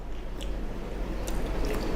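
Someone bites into and chews a crunchy empanada with flaky dough, giving a few soft crunches and moist chewing sounds close up over a low background hum, with no talking.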